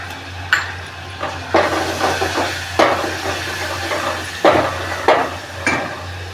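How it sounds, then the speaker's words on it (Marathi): Ginger and garlic sautéing in a pan with turmeric powder added, with a bright sizzle, spatula strokes and sharp stirring bursts recurring roughly every second over a low steady hum. "घालून घेऊ आलं लसूण थोडंसं असं परतायचं हळद पावडर टाकून घेऊ"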